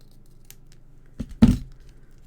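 Scissors trim a strip of card during window card making, giving a soft snip followed by a louder, crisp cut close by, alone against quiet room tone.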